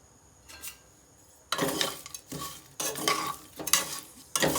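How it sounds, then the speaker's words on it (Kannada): Two eggs being stirred in a pan for egg biryani, with repeated scraping strokes of a spatula against the pan over a soft sizzle, coming in several close bursts after a quiet start. "ಇವಾಗ ಇದಕ್ಕೆ 2 ಎಗ್ ಹಾಕೋತೀನಿ."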